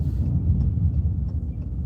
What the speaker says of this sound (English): That's a train going over our heads.